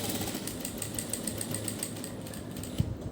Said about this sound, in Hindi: जहाँ जहाँ हमारे नेक की शेप है, उस शेप पे हम इस तरह से सिलाई लगा देंगे।